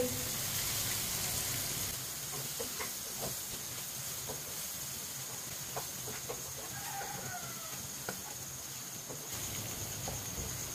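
Steady hiss of ridge gourd masala sizzling in a pan as two eggs go in, a continuous bright frying wash with faint scattered clicks and soft ticks throughout, no voices.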